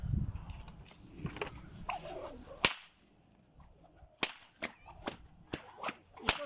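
A homemade Polish 'dziadowski' whip cracked by hand: a rough burst of cracks, then about six sharp, loud snaps in quick succession, each ringing out alone with no voices.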